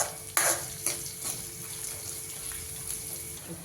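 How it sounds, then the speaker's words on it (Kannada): Chopped onions frying in a pan for tomato gojju, a soft steady sizzle with a few brief stirring clinks near the start, close and quiet without any voices. "ನೀಟಾಗಿ ಈರುಳ್ಳಿ ಹಾಕ್ಬಿಡೋಣ. ಇದು ಸ್ವಲ್ಪ ಫ್ರೈ ಆಗಬೇಕು"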